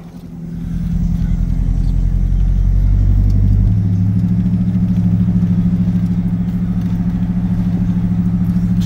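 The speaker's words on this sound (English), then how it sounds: "Look at them trucks." Heavy trucks and cars roll past on Route 51, a main road in Kearneysville, West Virginia, producing a loud, steady low engine rumble that swells early and then holds as a continuous drone.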